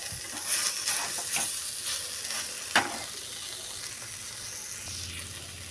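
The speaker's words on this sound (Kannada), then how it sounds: "ಲೋ ಫ್ಲೇಮ್ದಾಗ ಇಟ್ಬಿಟ್ರೆ ನಾವು ಫ್ರೈ ಆಗ್ತೈತೆ ರೀ" Masala fries in a pan on a low flame at home, a soft continuous sizzle broken by a few scraping stirs and one sharp clink, close and alone without voices.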